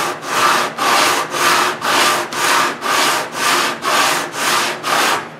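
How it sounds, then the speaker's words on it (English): Wooden rim of a steel-string guitar rubbed back and forth against sandpaper before the top is glued on, about ten even, rhythmic rasping strokes, loud and close with no voices. "And I just continue with this until I've sanded the upper part of the guitar."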